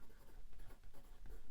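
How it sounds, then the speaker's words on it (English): A pen scratches across paper as a single word is written by hand, a quiet, close, rhythmic scribbling over a second and a half. "I'm going to write"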